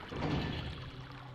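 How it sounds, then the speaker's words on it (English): Rushing water in Zelda: Twilight Princess HD, a broad, steady low-heavy wash that swells early and then settles into a continuous flow, with no voices. "sometimes you just gotta let all the water rush in"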